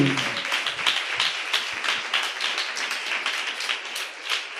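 Church congregation clapping together, a dense, lively patter of many hands at moderate distance that holds steady throughout without talk.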